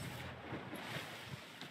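Splashing and sliding through a river in a video game, with a steady broad rush of water and low, rhythmic surges, loud and close throughout.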